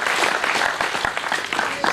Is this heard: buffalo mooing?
no